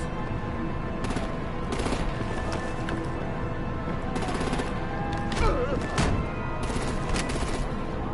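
Rapid gunfire and artillery blasts from the video game Batman: The Enemy Within, a dense sustained barrage with sharp bursts and a louder boom near the middle, mixed with game noise.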